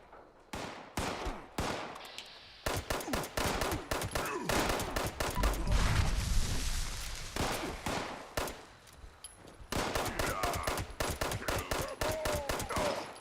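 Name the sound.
gunfire at super mutant, from video game Fallout 76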